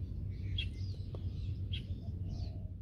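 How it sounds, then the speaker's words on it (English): Many wild birds call around a kayak drifting on an outgoing tide in a Tainan wetland, with scattered bright chirps and tweets over a steady low rumble of water and wind. "There are just the sounds of so many, many birds here."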